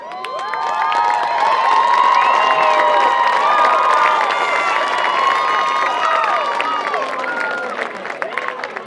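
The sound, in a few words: crowd cheering and applauding for the cheer team at a football game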